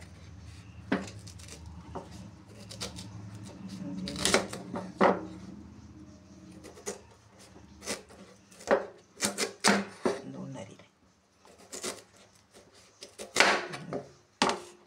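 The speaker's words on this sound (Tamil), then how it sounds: "இந்த மாதிரி சின்ன சின்ன பீஸாக நம்ம கட் பண்ணிக்கலாம்." Peeled tapioca (cassava) being chopped into small pieces with a knife on a board: a run of close, crisp chops at irregular intervals, some in quick bursts, with no talking.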